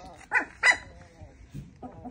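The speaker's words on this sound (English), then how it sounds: "This is Mia's mini Bernedoodle litter" Mini Bernedoodle puppies in a litter give several short yips and barks mixed with soft whimpers, close by and in irregular bursts, with a voice speaking faintly among them.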